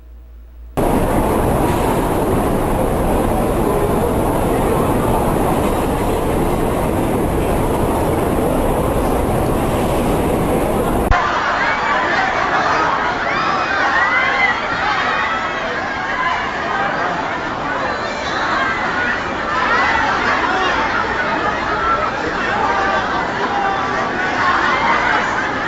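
A crowded Sé metro station in São Paulo, with a dense, continuous wash of crowd chatter and train rumble that stays loud throughout and changes tone partway through.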